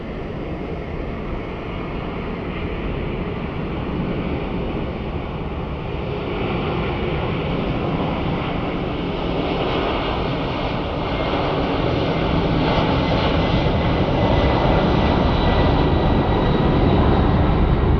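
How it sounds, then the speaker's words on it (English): Airplane engines at Sky Harbor International Airport roar in a broad, continuous jet rush with a steady whine, building slowly louder over eighteen seconds at moderate distance. "let's hear those engines. Hopefully my mic picks them up."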